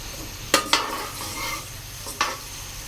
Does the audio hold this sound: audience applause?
no